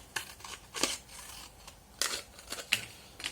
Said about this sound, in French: Et cet angle, on va venir le couper.